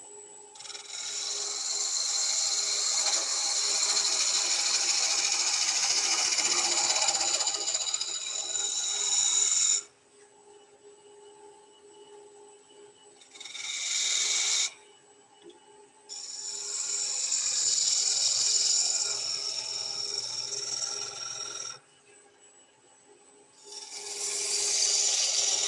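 A gouge cuts wood spinning on a lathe, giving a close, steady scraping hiss in long passes broken by brief quieter pauses as the tool lifts away between cuts.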